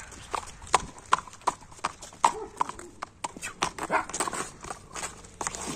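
Sharp hoofbeats clip-clop on a hard surface in an uneven rhythm, close by, with some faint background noise.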